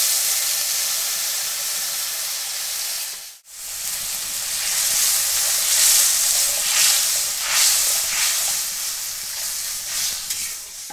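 Water poured into fried spices in a pan bursts into a loud, steady sizzle and hiss that rises briefly then roars on, close and without speech.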